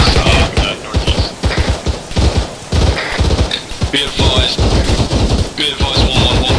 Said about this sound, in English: 1-4's under fire, danger close to our east, approximately 100 meters